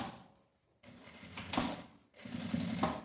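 Sewing machine stitching fabric for a double-opening zippered pouch, short whirring runs after a brief pause, with a quick reverse stitch at the start and end of the seam, close and clear.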